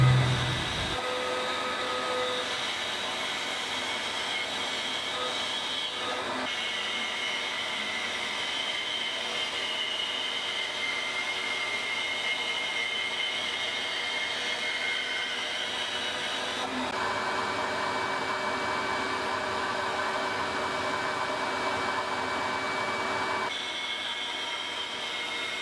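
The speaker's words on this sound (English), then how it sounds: "I'm gonna rip some pieces off at the bandsaw just to give me some square stock to work with." A bandsaw ripping square stock from guitar wood scraps runs as a steady, loud, droning whine that holds throughout, its tone shifting slightly as the cuts change.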